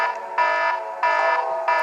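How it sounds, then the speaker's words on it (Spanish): A nuclear attack alarm siren sounds loud and close, a steady electronic wail that pulses in regular cycles of under a second, with nothing else heard. "Este es de la alarma nuclear."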